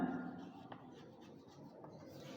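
Chalk or marker scratching across a board during a classroom English grammar lesson, a faint continuous rubbing with a few soft taps, close by and with no talk over it.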